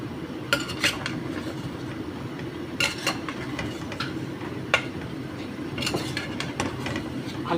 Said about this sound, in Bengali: ভালো করে নাড়ছি